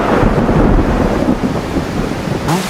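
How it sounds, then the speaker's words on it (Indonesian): Heavy rain pours during a film scene at a funeral, a dense loud roar with low rumbling thunder throughout, cutting off near the end as a faint voice begins. "hujan deras gitu."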